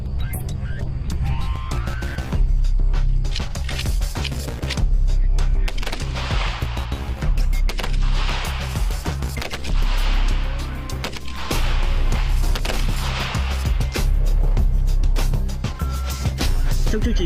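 Rifles including FN, FNC, M16 and AK-47 firing at a Vietnam People's Army marksman demonstration, dense loud repeated shots and bursts throughout, mixed with other noise.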